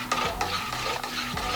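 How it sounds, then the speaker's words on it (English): Wine must being stirred in a 6-gallon plastic fermenting bucket for a Sauvignon Blanc wine kit, a close, steady swishing and scraping with repeated sweeping strokes about every half second. "All right, give it a good stir."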